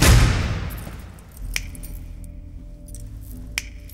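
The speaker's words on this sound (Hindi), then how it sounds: "तू चुटकी क्यों बजा रहा है?" Two crisp finger snaps ring out about two seconds apart against a quiet room tone, following a fading rush of noise at the start.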